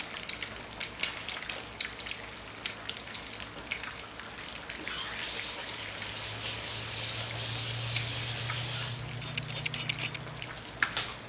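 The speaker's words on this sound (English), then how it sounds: "One thing I'll always do is rinse my hands off after messing with the eggs" Steady wash of running tap water as hands are rinsed at a kitchen sink while cooking eggs over easy with sausage, a continuous close splashing hiss with a few droplet spatters, no speech.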